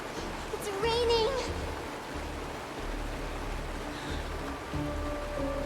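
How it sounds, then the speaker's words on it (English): Steady rain falls in a scene from the video game Honkai Star Rail, a constant soft wash of noise with brief voice sounds and faint tones over it. "The rain! It's raining!"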